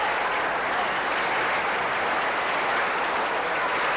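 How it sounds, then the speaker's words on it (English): Sustained audience applause for the final two candidates, Miss India and Miss Philippines, at the Miss Asia Pacific 1993 pageant, a dense, steady wash of clapping that holds at full level for the whole stretch with no voices over it. "Why don't we give our two remaining candidates a round of applause."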